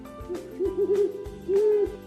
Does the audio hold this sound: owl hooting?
yes